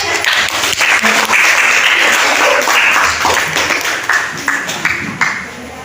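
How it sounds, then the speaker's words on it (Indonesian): Applause from a classroom audience for a presenting student group at a teacher training session, a dense sustained wash of clapping that thins into scattered claps toward the end, with a voice faintly audible underneath. "Berikan dulu tepuk tangan."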